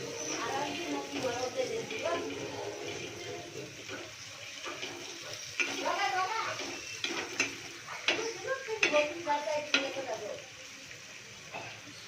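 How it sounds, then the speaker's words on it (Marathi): Potatoes being stir-fried in a pan, heard as a close sizzle with scraping and stirring that grows busier and louder toward the end. "मंडई आता परतून घेतो"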